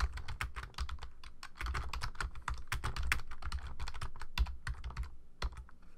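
Rapid, irregular keystrokes on a computer keyboard, close and fairly quiet, with a few sharper taps among the steady typing and no talking.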